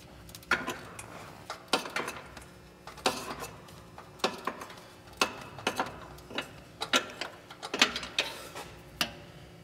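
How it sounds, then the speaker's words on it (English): A 13 mm deep well socket on a ratchet loosens the rear nut of an exhaust downpipe V-band clamp, giving a run of sharp metallic ratchet clicks in irregular bursts, close and clear with no voices. "I'm going to go back on that back nut and get that bad boy loose."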